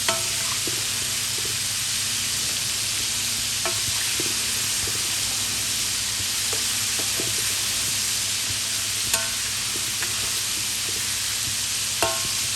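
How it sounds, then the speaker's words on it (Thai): Coated chicken tenderloin deep-fries in hot oil, producing a loud, unbroken roaring hiss and bubbling close up, with a few sharp clicks of stirring utensils scattered through it. "เราก็จะทอดไปจนกว่าจะเหลืองกรอบค่ะ"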